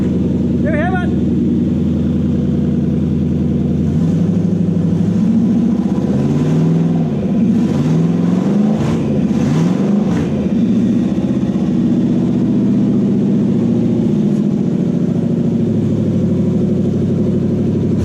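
A Toyota 1UZ V8 engine runs steadily with a low, continuous drone, briefly climbing in a few revs near the middle before settling back to idle, with a voice speaking over it.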